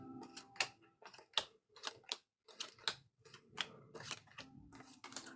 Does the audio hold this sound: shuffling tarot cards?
yes